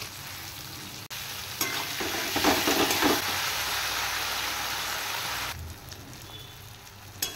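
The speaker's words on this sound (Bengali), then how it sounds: "জিরে আদা পেস্ট দেওয়ার পর লঙ্কার গুঁড়ো, হলুদ আর নুন দিয়ে দিয়েছি। এবার দিয়ে দেবো টমেটো।" A spice paste of cumin, ginger, chili powder, turmeric and salt frying with tomato in a pan, a hissing sizzle that swells after a sharp clack, then eases back toward the end.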